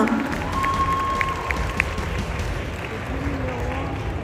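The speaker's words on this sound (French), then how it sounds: "Et on peut l'applaudir encore une fois, s'il vous plaît" An audience applauds the second-place winner of a cosplay contest at a manga and sci-fi convention in Paris, with a steady, crowded wash of clapping and some cheers under a busy hall ambience.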